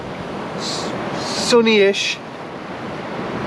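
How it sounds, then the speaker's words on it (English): Strong westerly wind by a flat sea on the Northumberland coast, a steady broadband rush roaring throughout, with someone briefly talking over it partway through. "Big westerly wind, flat sea"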